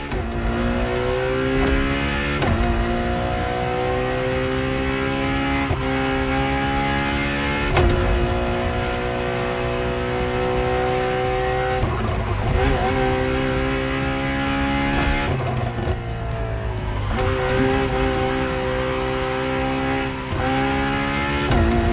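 A Ferrari sports car in the racing game The Crew Motorfest, its engine droning steadily through repeated rising gear pulls with brief dips at shifts, loud and continuous throughout.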